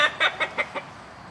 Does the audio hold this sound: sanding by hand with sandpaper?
no